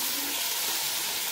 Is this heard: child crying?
no